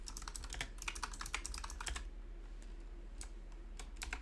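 A computer keyboard clatters in quick bursts of keystrokes, then breaks into a sparser few taps, close and fairly quiet with no talking.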